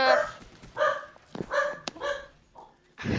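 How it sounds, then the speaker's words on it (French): A dog barks several times in short bursts, fairly close, with the barks mixed in among voices talking in French during a gaming session. "il y a un chien"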